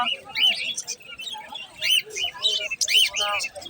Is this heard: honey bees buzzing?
no